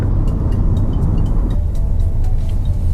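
A Hyundai i20 with a 1-litre turbo petrol engine accelerating hard, heard from inside the cabin as a loud, steady, low engine drone and road rumble, continuous and without any talking.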